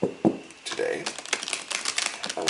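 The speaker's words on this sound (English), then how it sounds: "And we'll shuffle it one more time" A tarot card deck being shuffled during a daily reading, giving quick bursts of crisp riffling clicks up close that come in irregular waves.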